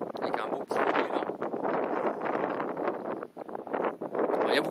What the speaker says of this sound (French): il y a beaucoup de vent, donc vous allez avoir du mal à nous entendre comme il faut